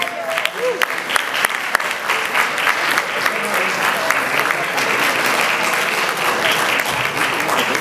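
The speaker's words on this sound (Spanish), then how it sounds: "Otro aplauso un poquito más grande, por favor" Dense, loud applause from an audience at a community recognition ceremony for the Ecuadorian community in Los Angeles, a steady wash of many hands clapping that holds for about eight seconds without letting up.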